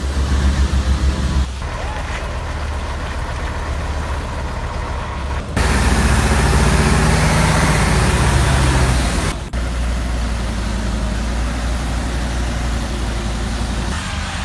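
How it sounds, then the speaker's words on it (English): Heavy oversize truck hauling a 155-ton Tigemic 1675 machine on a foggy, snowy, icy road, a steady loud low engine rumble and road noise throughout, swelling louder in the middle stretch before settling back. "The 155-ton Tigemic 1675 is being hauled away in truly unpleasant weather."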